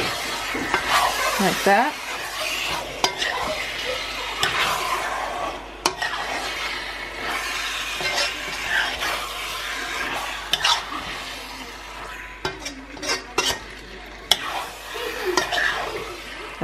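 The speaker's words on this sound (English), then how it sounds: "we're just literally stirring it around to kind of seal the meat" A spoon stirs stewed beef around a hot pot, searing the meat with steady sizzling and frying, scraping clinks against the pot throughout, and a brief voice speaking once near the start.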